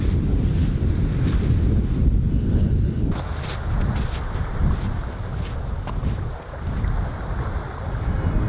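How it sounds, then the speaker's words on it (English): Ocean waves wash near a moored boat while strong wind buffets the microphone, a steady loud roar of surf and gusts that continues without pause and without any voices. "Ocean is near."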